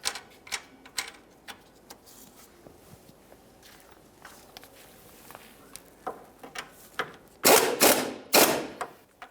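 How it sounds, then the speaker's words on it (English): A ratchet wrench tightens the ball joint mounting nut on the rear control arm of a 2007-2013 Acura MDX, giving a series of sharp, evenly spaced clicks that grow louder and denser toward the end. "bottom it out and then torque this to 50 foot-pounds"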